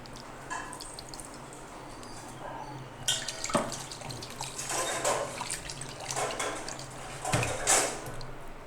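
Water runs from a tap as minced mutton is rinsed in a basin for a kari vada, a steady splashing flow with louder sloshes and drips, close and continuous.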